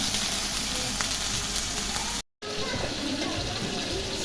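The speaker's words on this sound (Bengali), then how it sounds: "রিদা মাছের শুটকি দিয়ে পুঁই শাক দিয়ে রান্না করছি" Dried rida fish cooking with Malabar spinach in a pan, giving a steady broadband sizzle and bubbling that runs throughout, briefly cutting out near the middle before resuming.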